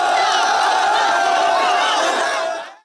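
A huge crowd of revolutionary protesters celebrating victory as they enter Ganabhaban, the Bangladeshi prime minister's residence, after her resignation and flight: a dense roar of shouting and chanting voices, loud and sustained, then cutting off abruptly at the end.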